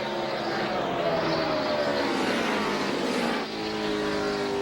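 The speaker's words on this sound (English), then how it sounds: "Leaders through 3 and 4 now. Harvick in front of Johnson. Last lap at Phoenix, white flag in the air." Stock race cars on the last lap at Phoenix roar past in a continuous loud engine blare with pitch sweeping down as they pass, dense and sustained throughout.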